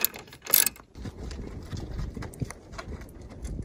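A wrench works a nut on the alternator belt tensioner of a 2002 Subaru Outback wagon, giving a sharp metallic clack followed by a run of soft, uneven ratcheting clicks and knocks, close by and fairly quiet.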